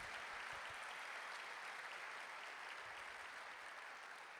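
A church congregation at a family worship service claps steadily, a faint, distant wash of applause holding at an even level without a break.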